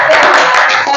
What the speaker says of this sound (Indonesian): boleh kita kasih aplaus dulu buat Pak Agus